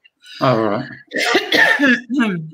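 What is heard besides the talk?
cough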